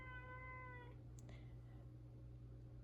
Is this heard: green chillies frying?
no